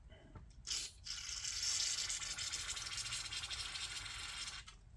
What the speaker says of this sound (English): I'm just going to spray this carburetor out